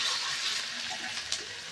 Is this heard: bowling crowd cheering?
no